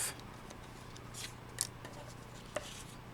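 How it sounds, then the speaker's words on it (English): Scissors snip through craft material in a few sharp, separate cuts, close and fairly faint, with no talking over them. "So I'm going to snip that off"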